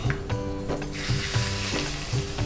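Curry leaves and broken red chili pieces sizzle in hot oil for a tempering, with hissing, crackling frying noise and a few clinks from the pan, close and continuous throughout.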